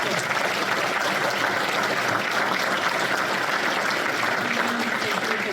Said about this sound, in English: one last round of applause, really